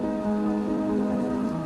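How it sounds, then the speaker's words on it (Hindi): Heavy rain pours steadily in a Hindi cartoon fairy tale, giving an even wash of falling water. A faint sustained tonal hum sits underneath, and no one speaks. "सरला ये देखो कितनी तेज बारिश हो रही है।"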